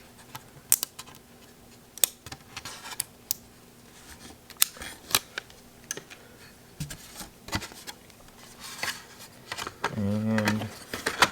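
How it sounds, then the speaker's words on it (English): Small clicks, taps and light plastic scraping from prying a little plastic piece off a Steam Deck handheld while fitting a transparent backplate, scattered close and fairly quiet, ending in a short denser rattle. "make sure you take this little plastic piece off here."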